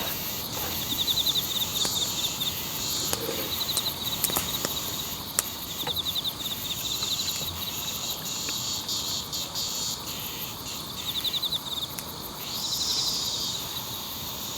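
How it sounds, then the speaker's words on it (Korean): In a quiet forest campsite, a cicada gives short, high chirring bursts that repeat every few seconds over a steady, hissy insect drone, with no talking. "뭔가 매미의 마지막 울음소리 같지 않아?"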